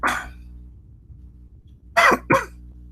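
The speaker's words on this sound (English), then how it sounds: "Sorry, I'm coughing." Coughing from a man on a live religious discussion stream: one cough at the start, then a pause and two more sharp coughs close together near the mic, with no talk in between.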